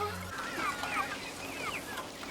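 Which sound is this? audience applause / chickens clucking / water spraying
chickens clucking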